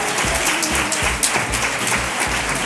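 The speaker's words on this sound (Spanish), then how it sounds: "Fuerte aplauso, a ver qué sale." Brief burst of applause with some rhythmic thumps underneath, loud and close.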